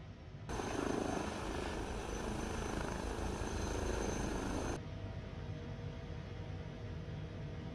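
Helicopter rotor and turbine noise from an HPG H160 in Microsoft Flight Simulator lifting off a helipad, a steady loud whir with a thin whine that cuts off abruptly, leaving a quieter rumble.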